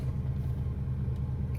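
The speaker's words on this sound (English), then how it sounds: "the car's backing up" A Porsche Cayenne 955 backing up in reverse after a valve body replacement, a steady low engine rumble at idle, close and continuous, with no voices.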